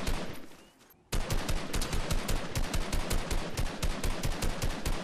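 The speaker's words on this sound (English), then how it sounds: "I'm just firing into that bush and missing every shot" Rapid automatic gunfire in the video game Fortnite, loud and sustained in an even rhythm of sharp shots after a short quieter lead-in, with no talking over it.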